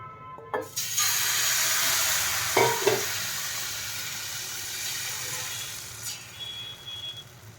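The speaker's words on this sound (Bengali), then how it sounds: "সামান্য একটু ঘি ব্রাশ করে আমি ব্যাটারটা ভালোভাবে তাওয়ার মধ্যে ছড়িয়ে দিয়েছি" Patishapta batter spread thin on a ghee-brushed tawa gives a steady, soft sizzle and hiss, broken by a few brief scraping knocks from a utensil, with no talking.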